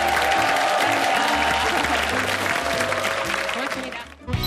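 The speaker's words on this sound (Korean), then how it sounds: "오늘의 몸신께 여러분 큰 박수 보내주세요." A studio audience on a Korean TV health show applauds in a dense, sustained wash of clapping that fades out at the end, with voices mixed in.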